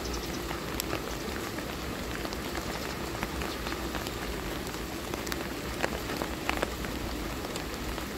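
Steady rain patters densely on a surface, a continuous close hiss with scattered louder drops and no voices.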